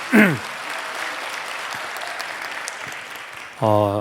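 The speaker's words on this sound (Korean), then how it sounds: "목사님 나오실 때 여러분들 큰 박수와 환호성으로 함께 해주시면 감사하겠습니다" Applause and cheering from a church leadership training audience, a steady dense wash of clapping lasting several seconds, bracketed by brief voices at the start and end.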